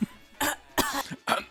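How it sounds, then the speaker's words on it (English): A person gives a few close, forceful coughs, three sharp bursts in quick succession with a soft throaty sound between them. "That was a confident cough."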